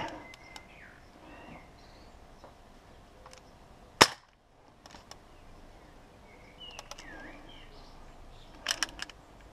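A single sharp shot from a Crosman M4-177 air rifle, a sudden loud crack near the middle, alone outdoors with faint birds and insects around it.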